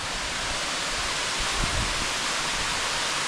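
Steady roar of a waterfall in the Glinščica gorge, a dense broadband rush of falling water, close and continuous throughout with no pauses.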